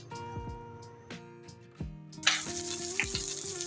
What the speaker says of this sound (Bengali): তেলটা একটু কমাই নিছি, দিয়ে দেবো পেঁয়াজ কুচি